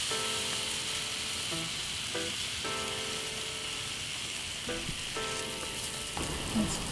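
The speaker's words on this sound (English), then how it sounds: "I'm gonna add in my egg." Egg poured into a hot wok with prawns for salt and pepper shrimp fried rice, a steady close sizzle and frying hiss with brief stirring scrapes, no talk.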